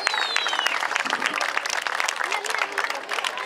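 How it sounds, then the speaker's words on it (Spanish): An audience at a falconry show at the Oceanogràfic in Valencia gives a steady, loud round of applause for black kites, dense clapping filling the whole stretch with a few faint voices mixed in. "vamos a despedir a los milanos negros con un fuerte aplauso"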